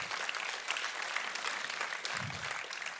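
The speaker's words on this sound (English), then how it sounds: "Come on, this deserves a round of applause." Warm applause from a church congregation during a sermon, dense continuous clapping at moderate level with a low murmur of voices beneath.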